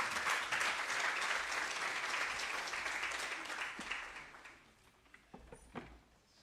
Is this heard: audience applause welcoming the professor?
yes